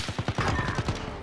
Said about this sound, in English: Can hear the gunfire.